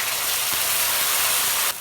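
Ground paste of green chilli, cumin, onion and coriander dropped into hot oil, giving a steady loud hiss and sizzle that cuts off abruptly near the end.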